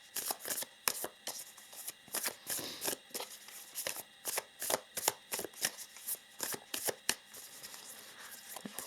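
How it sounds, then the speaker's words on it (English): A deck of affirmation cards is shuffled by hand, a rapid series of crisp riffling flutters and soft slaps repeating in quick bursts, close and clear, with no talking. "So let us pull some affirmation cards."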